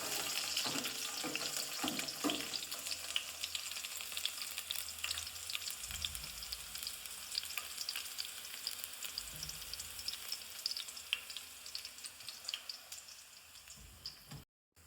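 Garlic sizzles and crackles steadily in hot oil, a continuous close hiss with occasional stirring scrapes, and no voices.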